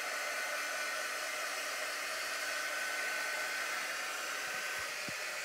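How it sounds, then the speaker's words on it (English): A small heat tool blowing hot air to dry paint on a furniture rub-on transfer, a constant airy whooshing hum held steady throughout, moderately quiet, with no talking. "we're going to dry this really quickly using our little heating tool here"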